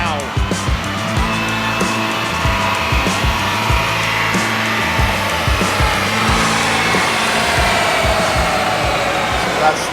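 Loud tuned Toyota Supra A90 with a Pure 800 turbo setup running on methanol, engine roaring steadily and close for the whole stretch, with rhythmic pulsing surges and strong high-pitched turbo whine layered over it.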